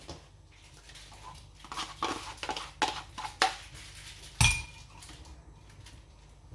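Cake batter of yogurt and oil stirred in a bowl for a soft homemade cake, giving a series of light clinks and scrapes against the bowl, fairly close and moderate, with no talking.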